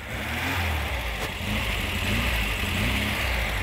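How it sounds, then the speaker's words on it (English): A 1962 Volkswagen microbus engine revs up and holds a steady, throaty exhaust drone. It sounds close and fairly loud, with no voices. "Brent, can you just give it a little kick on the accelerator so we can hear that exhaust?"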